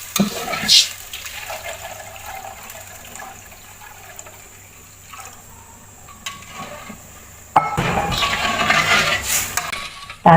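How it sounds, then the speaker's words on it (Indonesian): Crab in tomato sauce being stirred in a frying pan with ginger and added water, soft scraping and sizzling at first, then a louder bubbling, hissing burst of frying near the end. "Kita aduk biar rata."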